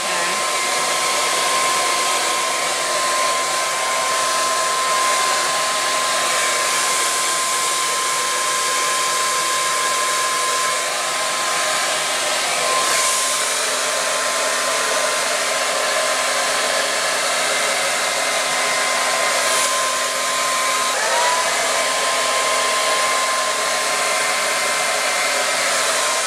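A hair dryer roars steadily and loudly close up for the whole stretch, blow-drying hair at the roots with a brush, its whine holding a constant pitch with only slight shifts as the airflow moves, and no voices.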